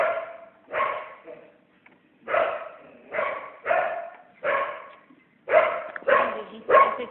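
A female dog barks loudly and steadily nearby, a string of separate forceful barks evenly spaced across the whole stretch with only short gaps between them.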